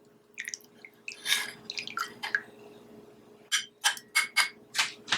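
A drink is strained into a cup, heard as scattered soft drips and small clinks, a quiet cluster early on and a sharper burst of splashy taps toward the end.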